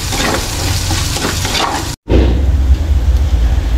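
Garlic and onion sauté together in a hot pan for pork liempo Bicol Express, giving a loud, steady sizzle that drops out briefly and then returns with a fuller, rumbling fry.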